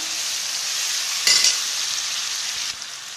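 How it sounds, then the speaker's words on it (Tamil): Blended tomato puree sizzling with onion and ginger-garlic paste in hot oil, a steady close hiss with a brief burst of louder crackle and a soft stir near the end. "இதில் 3 மீடியம் சைஸ் தக்காளி வந்து மிக்சியில் அடித்து வச்சதை ஆட் பண்ணி நல்லா வதக்கிக்கலாம்."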